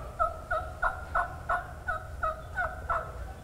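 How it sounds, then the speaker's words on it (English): Soft turkey yelps and clucks from a hunter's call, about eight evenly spaced two-note calls, close and clear against a low background rumble with no talking. "I'm not calling hard to her, just soft yelping, clucking and purring"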